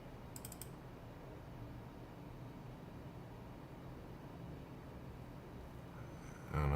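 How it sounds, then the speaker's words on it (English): Soft computer keyboard typing during a coding contest session, a steady low patter of quiet keystrokes that runs throughout, ending in a sudden louder thump. "I like these keyboard sounds, very soft."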